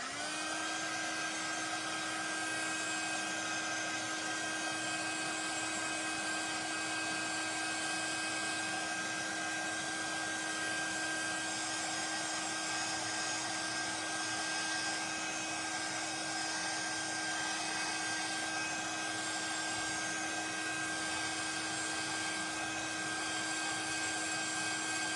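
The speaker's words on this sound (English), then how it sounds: "So I'm going to just use my heat tool." Craft heat tool blowing hot air over artwork at a workspace, a steady whirring fan roar with a constant high whine that runs unbroken throughout, close and alone without speech.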